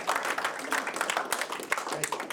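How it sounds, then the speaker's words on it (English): A small audience at a breakfast event gives Tori and Jason a light, patchy round of applause, with individual claps audible. "Have both Tori and Jason a round of applause for their..."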